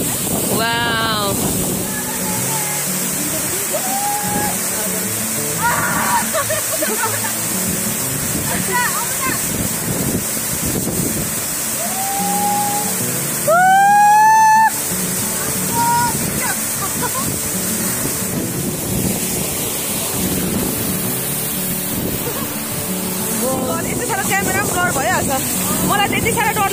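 Waterfall at Perbing/Dong Tsanga in Sikkim pours in a constant broad roar close by, while people talk and exclaim over it throughout.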